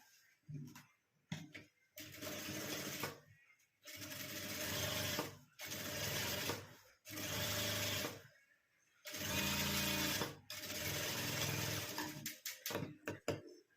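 A domestic sewing machine stitches blouse fabric into a small handbag, running in loud whirring bursts of a second or two, separated by short pauses and quick clicking adjustments, close up with no talking.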